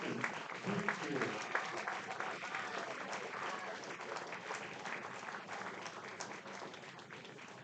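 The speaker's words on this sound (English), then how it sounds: "let's give him a big round of applause" Audience applause for Mike Deming at a retirement honour, a sustained burst of clapping from a crowd that starts strong and slowly tapers, heard at a distance.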